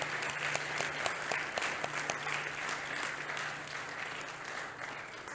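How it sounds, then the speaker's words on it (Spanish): A church congregation applauds loudly at an afternoon worship service, a dense, sustained roar of many hands clapping that continues throughout and eases off slightly toward the end. "Dale un aplauso fuerte al Señor en esta tarde."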